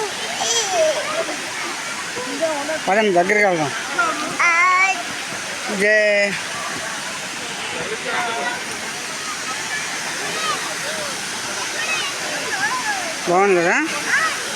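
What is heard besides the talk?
waterfall near a temple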